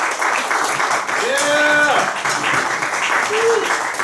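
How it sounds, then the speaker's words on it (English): A crowd claps and cheers in steady applause after a family band's piano, drums and guitar performance at a music event, with a whoop and a brief vocal call rising above the clapping. "can we get another hand of applause for Ashlyn's solos?"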